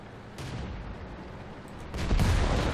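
An M10 Wolverine tank destroyer fires its cannon in World of Tanks, with a muffled boom partway through and a heavier, louder blast near the end over steady engine rumble.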